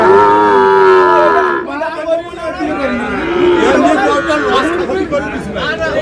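Sahiwal bulls and calves lowing loudly at a busy cattle market in Jessore, one long close moo first, then overlapping calls beneath a crowd's steady chatter.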